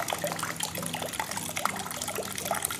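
Water runs from a tap in a steady trickling splash, close and continuous, with small bright drips and gurgles over the flow.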